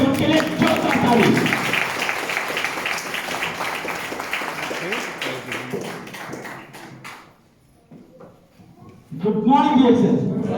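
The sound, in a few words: audience applause for a speaker taking the stage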